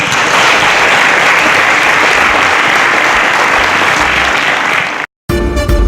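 A loud, dense burst of applause for eliminated contestants from a studio audience on a science competition show, sustained for about five seconds before cutting off abruptly.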